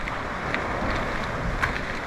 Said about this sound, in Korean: 저 파도 파도 소리.